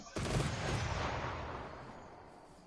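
A single rifle volley fired on command at a ceremony, one sharp loud crack followed by a long fading echo rolling away outdoors, with no voices during the shot.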